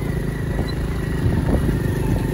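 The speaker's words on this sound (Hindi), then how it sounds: "बंदा यार बाइक चलाना काफ़ी मुश्किल हो रहा है" A motorcycle rides along a muddy village track beside a canal, its engine a steady, rough drone heard close up and on its own throughout.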